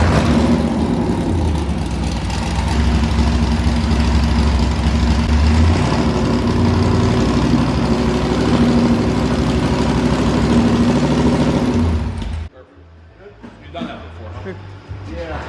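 Car engine idling steadily and fairly loud for about twelve seconds, a continuous low rumble with people talking over it, then cutting off abruptly to quieter background.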